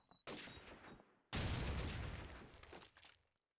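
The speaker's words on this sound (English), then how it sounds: "both of the SMGs for qwertz are rocking" Call of Duty 4 submachine gun fire during a LAN tournament match, a short burst followed by a long, loud sustained stream of rapid automatic shots that tapers off.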